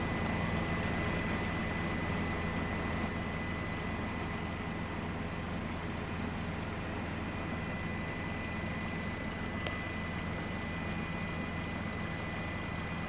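Jet engines of a Boeing 787 Dreamliner drone steadily during its first-flight takeoff roll, a constant low roar with a thin whine, heard from a distance at moderate level.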